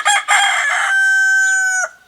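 A rooster crows loudly and close on a spring homestead, a single long call rising after a few rough opening notes and holding a steady pitch before cutting off.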